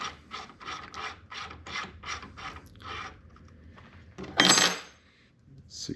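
A threaded end stop is screwed in by hand at a milling machine during a brass puzzle build, producing a quick series of about ten metallic ratcheting clicks, then a brief louder scrape of metal.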